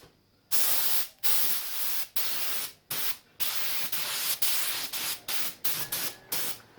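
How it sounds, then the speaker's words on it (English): A small touch-up spray gun applies air-dry enamel to engine parts in short, repeated hissing bursts. The bursts come close up, with brief silences between them and no talking. "I'm just going to use a small touch-up gun. Just to keep overspray down. This is just air dry enamel."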